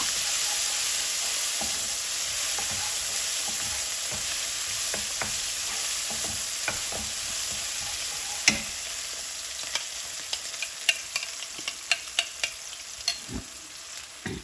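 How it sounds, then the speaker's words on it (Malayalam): Cumin seeds spluttering in hot oil, a dense steady crackle and hiss with scattered sharp pops and stirring clicks that grow more frequent toward the end, close, with no talking. "നമ്മൾ ജീരകം പൊട്ടി ബാക്കി കൂടെ കൂടി ഒന്ന് മിക്സാക്കുക"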